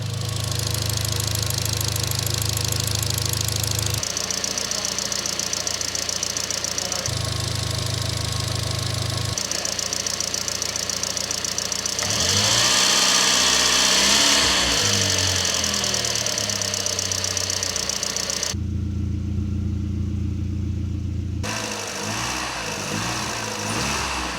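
A Volkswagen Mark III GTI engine starting for the first time in over four years runs rough and uneven, with knocking and revving surges that swell and drop across the clip. Steady low humming tones sit underneath.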